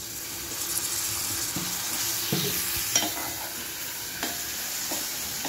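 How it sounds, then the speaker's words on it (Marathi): Water added to spicy masala frying in a pan for a dry dried-shrimp dish, producing a continuous hissing sizzle with occasional soft clinks and stirring sounds, close and without speech. "आता आपण ह्याच्यात थोडं पाणी घालणार आहोत।"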